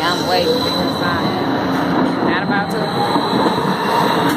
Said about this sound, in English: I'm not trying to outrun no train.